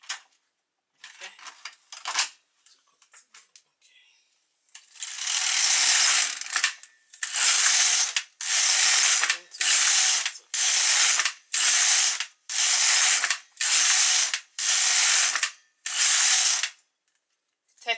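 A knitting machine carriage is pushed back and forth across the needle bed in a row of loud, even rasping sweeps, each a second or so long with short gaps between. A few quieter clicks come before the sweeps begin.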